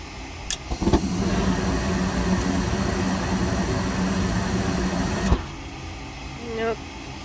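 A household gas furnace starting up, with a click and then a steady mechanical whir and hum for several seconds that cuts off abruptly, heard up close in a quiet room.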